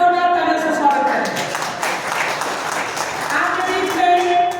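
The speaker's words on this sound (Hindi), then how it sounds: "कृपया जोरदार तालियों से स्वागत करें।" A crowd at a journalists' award ceremony in Lucknow applauds to welcome an honoured guest. The clapping forms a continuous wash mixed with a tonal, music-like layer, with no clear talking.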